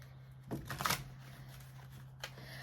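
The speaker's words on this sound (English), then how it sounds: "Ooh, these cards don't want to shuffle." Tarot cards being shuffled close by, a faint, brief riffle of papery flutters and taps in a quiet room, with a small extra rustle shortly after.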